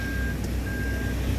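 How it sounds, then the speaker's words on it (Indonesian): Rear cross traffic alert buzzer on a Toyota Veloz, tested in a parking area, sounds as a steady high electronic tone in two long pulses over a low idling engine rumble. "Jadi ada sensor buzzernya itu berbunyi kalau seandainya di parkiran."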